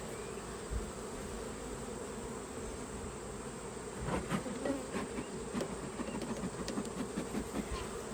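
Honeybees buzzing around an open beehive during a beekeeping inspection, a steady, dense drone close by, with a few clicks and handling knocks of hive equipment in the second half.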